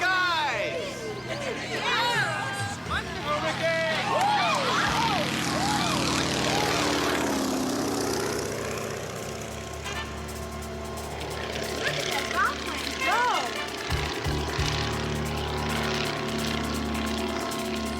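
Droning propeller airplane engine sweeps overhead, rising and falling in pitch as it passes, under excited voices and background chatter.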